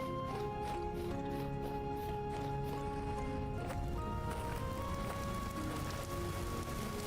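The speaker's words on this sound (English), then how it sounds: "Land of rain. Land of wind." Rain and wind in the video game Vintage Story: a constant dense patter of rain with a steady windy rush, even and moderately loud throughout, accompanied by soft tonal background music and no talking.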